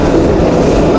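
Vande Bharat sleeper train on the Kamakhya-Howrah route rolling along the rails, a loud, steady, continuous rumble filling the whole second with no breaks or voices.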